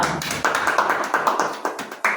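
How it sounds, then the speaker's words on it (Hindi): Audience clapping welcoming a guest onto a talk show, a run of sharp, close, uneven claps at moderate loudness, with no talk over them. "तो हम अपनी आप सबकी बहुत सी तालियों में बुलाते हैं नागिन हुरिया"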